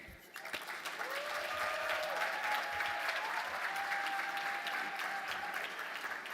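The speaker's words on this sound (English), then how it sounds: "please give another round of applause for Leonard" A round of applause from an awards ceremony audience, steady and full from start to finish, with a faint voice heard early on.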